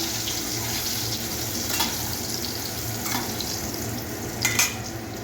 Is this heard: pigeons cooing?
no